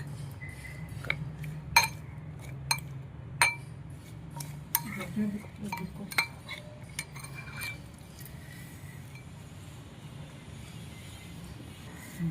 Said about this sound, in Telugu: ఇప్పుడు ఇవన్నీ మనం బాగా కలుపుకోవాలి